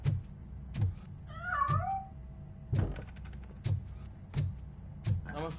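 Cat in Robocop: Rogue City gives a single drawn-out meow, set among a regular series of heavy footstep thuds and faint mechanical whirs.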